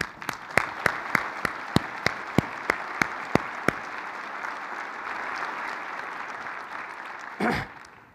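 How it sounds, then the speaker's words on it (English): An audience at an annual conference welcome gives a round of applause: a dense wash of clapping with a regular series of loud, sharp claps near the microphone over the first few seconds, then steady crowd clapping that ends with a brief rustle. "Let's give him a round of applause."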